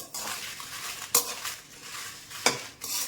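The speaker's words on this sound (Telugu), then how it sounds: "ఎండుమిరకాయలు మాడకుండా వేయించుకోవాలి" Dried red chillies fry in oil in a pan, giving a continuous soft sizzle. Two sharp metallic clinks from a stirring utensil against the pan rise above it, close up, with no talking.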